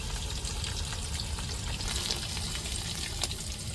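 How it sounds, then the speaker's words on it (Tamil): Five fish pieces frying in oil and turned from side to side, a dense, steady bubbling sizzle that stays close and even throughout with no voices. "ரெண்டு சைடு மாற்றி மாற்றி மீன் வேக வேக பிரட்டி விட்டுக்கிறோம்"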